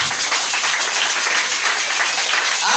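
A church congregation applauds together in a dense, even wash of clapping that stays loud and sustained throughout.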